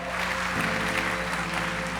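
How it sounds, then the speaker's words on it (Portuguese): A church congregation applauds in a steady, dense burst of clapping, with a sustained musical tone underneath. "Vamos aplaudir a Jesus"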